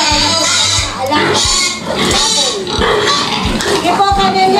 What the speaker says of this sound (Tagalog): Nelia, ano po ba itong mga alaga nating baboy na napakalimit